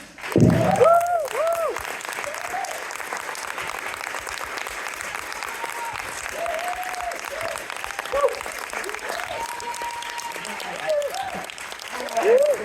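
Applause at a congress tribute to dancer Angel Vianna: sustained crowd clapping, moderately loud and even, with voices talking and calling out over it throughout.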